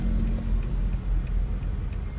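A car engine idles with a steady low rumble after trouble starting, continuous and fairly close, with no talk over it.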